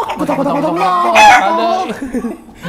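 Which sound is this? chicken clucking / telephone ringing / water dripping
chicken clucking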